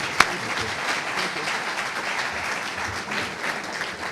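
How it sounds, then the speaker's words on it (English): An audience applauds the mayor of El Centro at a State of the City address, steady, moderately loud clapping from a crowd, with one sharp near clap early on. "let's give another round of applause for the mayor of the city of El Centro"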